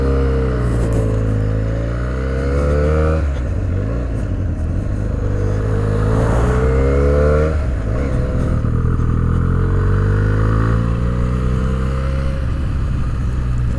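A Benelli 302 motorcycle engine revs and pulls hard on a test ride, its pitch climbing and falling through several gear changes. The loud, close exhaust drone runs steadily throughout with no talking.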